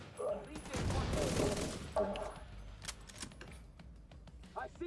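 SMG fire in a video game: a dense burst of rapid automatic shots, then scattered single shots and clicks, loud and close, with no talking.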